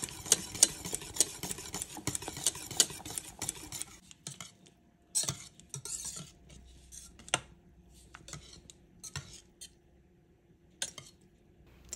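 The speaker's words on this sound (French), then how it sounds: "vous faites cuire à feu moyen en mélangeant régulièrement jusqu'à obtenir une crème épaisse" Lemon cream stirred in a pan over medium heat, with a utensil clinking and scraping against the pan in irregular taps, louder at first and then sparser.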